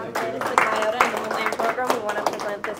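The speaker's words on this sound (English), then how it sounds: "Can everyone please give another round of applause for Angela?" An audience claps after a talk, steady dense applause with a few sharper claps standing out, close and fairly loud throughout.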